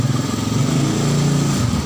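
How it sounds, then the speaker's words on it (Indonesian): A Honda Supra X motorcycle with a semi-automatic clutch idles steadily up close, its engine putting out a continuous low throbbing rumble with a slight dip in pitch near the end. "Motor Supra ya."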